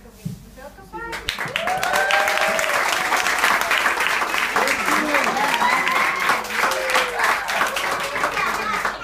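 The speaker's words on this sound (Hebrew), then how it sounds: "יותר כפיים." An audience applauds at a school end-of-year party for a first-grade class, a dense, sustained wash of many hands clapping nearby after a brief opening moment, with voices and cheers mixed through the crowd.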